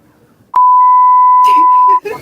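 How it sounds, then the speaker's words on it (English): A single long, steady censor-style beep starts abruptly after a sharp click and holds for about a second and a half, loud and alone, while voices chatter faintly underneath near its end. "Long beep."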